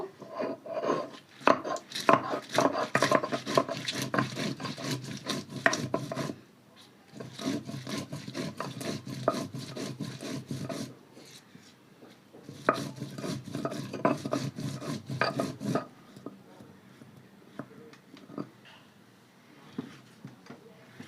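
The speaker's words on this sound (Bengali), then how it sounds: "বন্ধুরা এবার কাঁচা লঙ্কাটা বেটে নেব।" Green chillies ground into a paste by hand for an Indian village recipe. Close, rhythmic rubbing and grinding strokes come in three long bursts with short pauses between them, and no one speaks.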